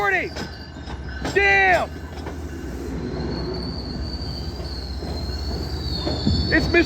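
MBTA HSP-46 2017 locomotive 1722, Kawasaki CTC-4 cars, passing with loud squealing wheels and steady rail rumble, a brief horn-like tonal burst early on, and a voice exclaiming over the noise.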